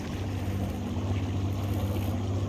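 A boat motor drones steadily while underway to a trotline crabbing spot, a loud low hum mixed with wind buffeting and water rush, continuous with no breaks.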